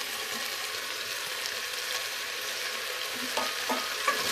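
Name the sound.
sautéing carrot and cauliflower pieces for pav bhaji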